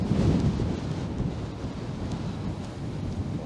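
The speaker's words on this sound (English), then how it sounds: "We just got hit with a strong gust of wind from the north." A strong gust of north wind buffets the microphone on a Toronto street walk in March, a loud low rumbling roar that fills the whole moment with no voices.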